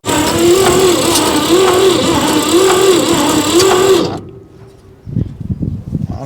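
A 1959 Chevy pickup engine, abandoned for decades, cranking on the starter with a loud steady rhythmic whir for about four seconds, then stopping, followed by clanks and handling noises nearby.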